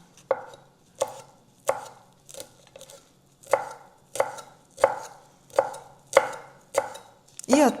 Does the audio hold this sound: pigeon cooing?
no